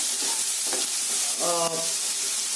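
Onions stirred as they fry in a pan for a vegetable masala curry, a steady close sizzle broken by a couple of scraping stirs and a brief clatter of the spoon against the pan, with no talk.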